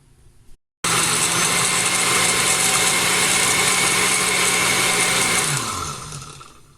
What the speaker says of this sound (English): So I'm going to cover the blender, and then I'm going to blend it.